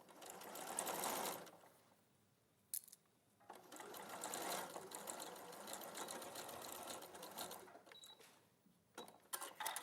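A sewing machine stitches gathered dress fabric in close, loud, whirring bursts, pausing briefly between runs and then running on again, with a few faint clicks in the gaps.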